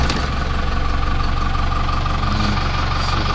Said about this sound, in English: Alright, so let's go ahead and hear this thing fire up.